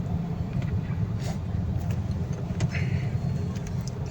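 Steady low road-traffic rumble heard from inside a taxi in slow, congested traffic, with faint passing engine noise and occasional small knocks.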